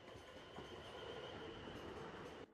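South West Trains passenger train running on rails, a steady close rumble with a faint high squeal of wheels on track, continuous and unbroken, with no talk.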